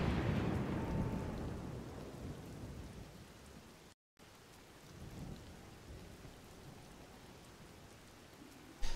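Rain pours steadily with rolling thunder in Zelda: Tears of the Kingdom, a loud rumble early on easing into a constant downpour, with a brief dropout midway and a sharp burst at the very end; no talking.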